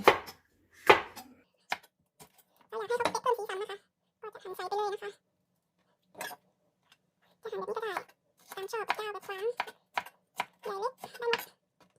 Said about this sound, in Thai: ส่วนพริกซับก็จะหั่นตามชอบเลยค่ะ